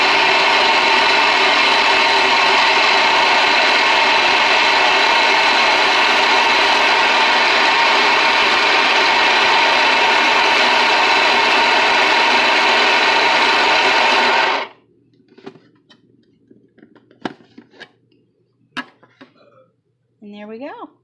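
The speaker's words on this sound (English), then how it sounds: "I've never had it mess with my food processor, so here we go, giving it a whirl." Food processor blends keto dog food with bone meal and collagen, a loud, dense grinding whir running continuously before cutting off sharply, followed by faint clinks and handling noises.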